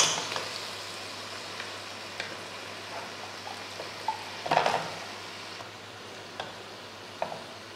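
Mutton drops into a karahi holding onion, ginger-garlic paste and water, raising a steady close sizzle with scattered clinks and a louder splashing burst midway.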